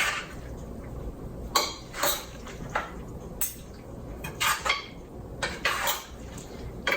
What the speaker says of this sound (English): Now we're going to go ahead and mix everything all together.